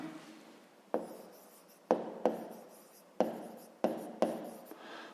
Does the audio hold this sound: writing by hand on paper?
yes